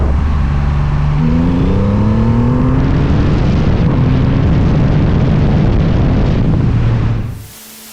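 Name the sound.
Triumph Rocket 3 Storm R motorcycle engine at full throttle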